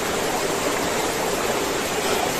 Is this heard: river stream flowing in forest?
yes